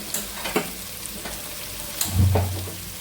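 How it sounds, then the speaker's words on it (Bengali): Khichuri fried and stirred in a pan on a home stove: a steady low sizzle with several sharp spoon-on-pan clinks and scrapes, close and fairly quiet, with no voices. "এটা খুব ভালো করে ভেজে নিচ্ছি"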